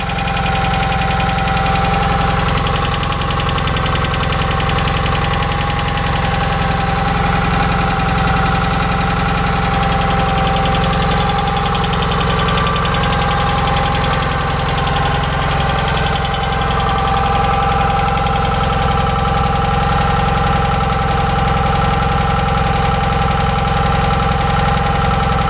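Onan CCKA engine, set up for a 4WD Gravely tractor swap, running steadily with a slight valve tick over a smooth, loud continuous idle-like drone, close and alone without talk.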